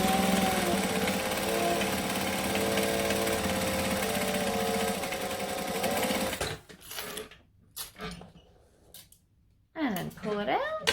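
A sewing machine runs a long, steady seam on a bowler bag, then stops and makes short back-stitching bursts, with a person talking briefly near the end.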